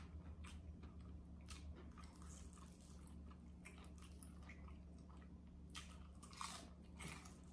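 Crunchy fried fish from Captain D's being bitten and chewed close to the mic, with repeated crisp crunching bursts over a steady low background hum.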